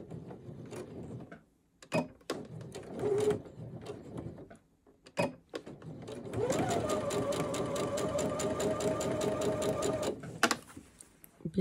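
A domestic sewing machine runs a steady, fast stitching burst for several seconds, assembling a seam on a men's boxer short 3 mm from the edge, preceded by brief handling clicks and rustles of fabric.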